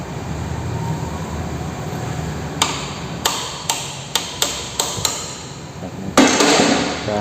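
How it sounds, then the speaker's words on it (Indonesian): A hammer strikes a motorcycle's steering lock nut to loosen it, about eight sharp metallic knocks spaced irregularly over a steady workshop background, close and fairly loud. "Kita palu aja."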